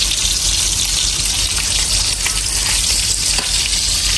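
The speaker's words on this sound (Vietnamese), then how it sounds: "Mình mua cục thịt bò này về cái mình chiên lúc lắc nha." Cubed beef fries for shaking beef (bò lúc lắc) with a loud, dense, steady sizzle close by, continuous and unbroken throughout with no talking.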